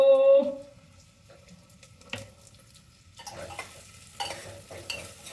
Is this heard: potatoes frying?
yes